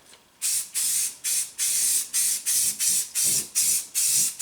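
An aerosol can sprays a light coat of paint onto the split rims of a 1961 Cushman Truckster, in about eleven short, even hissing bursts separated by brief pauses, close and loud.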